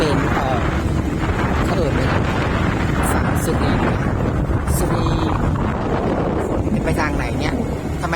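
Strong, gusty wind before a big rainstorm buffets the microphone beside rice fields in the early evening, a loud continuous roar throughout with a few brief sharp knocks and a voice talking underneath.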